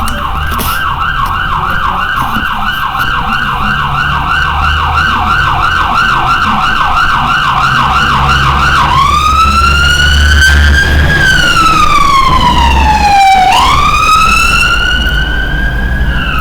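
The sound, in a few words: ambulance siren passing by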